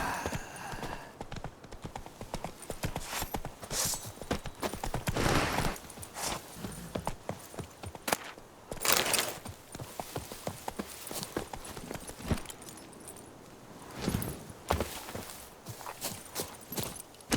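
Horse hooves clip-clop at a steady walking rhythm in The Witcher 3, with occasional louder bursts of game sound over the hoofbeats and no speech.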